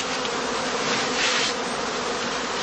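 A cast of honeybees buzzes steadily inside a heather skep in a heathland apiary, a dense, continuous hum held close and loud throughout with no voices.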